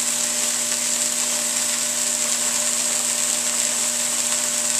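A solid state Tesla coil throwing seven inch arcs, a loud continuous buzzing hiss with a steady tonal hum, unbroken for the whole stretch.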